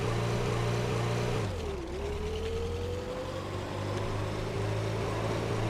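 A big truck drives in the Brick Rigs video game, its engine giving a steady low drone that dips in pitch briefly partway through before settling back into a continuous hum, with no talking.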